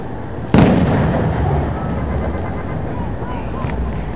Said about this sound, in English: Fireworks flying everywhere and shit.